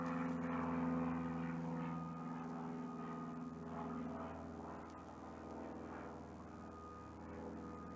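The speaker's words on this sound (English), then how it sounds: "hey airplane, what's going on?" Propeller airplane passing overhead, a faint, steady droning hum that rises slightly and then holds, heard alone in an outdoor setting.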